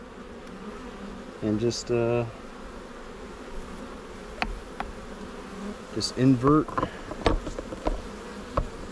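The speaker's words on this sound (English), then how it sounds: "There are a ton of bees down in the trap" A honey bee swarm hums continuously inside a trap, a close, steady buzzing heard throughout as someone talks intermittently over it.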